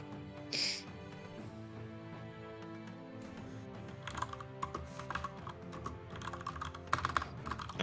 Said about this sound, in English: what was the typing?